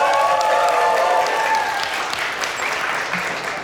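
Loud audience applause at a televised Ukrainian music show as a singer is introduced, steady clapping that eases slightly toward the end, with a few cheers mixed in.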